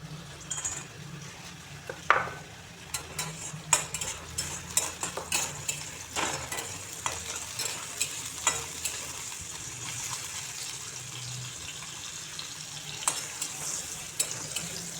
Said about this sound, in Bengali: আর 10টি মাছের বড়ি ভেজে নিচ্ছি।